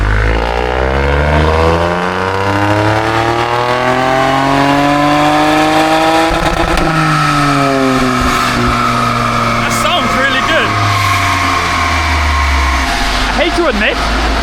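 A turbocharged three-cylinder Stage 1 Ford Fiesta ST revs hard on a dyno, loud and close, climbing steadily through the gears with brief dips at each shift. Voices talk over the roar.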